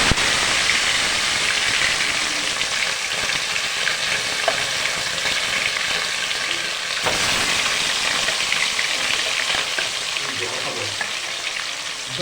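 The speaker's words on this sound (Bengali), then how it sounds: "তেল ছেড়ে দিয়েছি, এখন মাছ ছাড়বো।" Fish fried in hot oil in a wok sizzles loudly and continuously, a bright, crackling hiss with occasional spits and stirring sounds that stays strong throughout.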